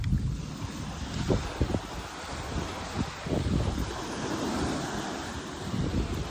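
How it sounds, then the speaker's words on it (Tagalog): Steady wash of sea waves rolling onto a beach, with gusts of wind buffeting the microphone and scattered bumps; no voices. "Ang sarap na dagat, oh."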